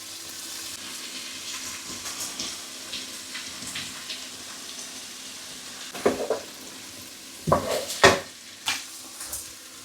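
Butter melts and sizzles in a pan for creamy broccoli and Stilton soup, a soft steady frying hiss broken by a few scraping stirs and clinks of the utensil against the pan.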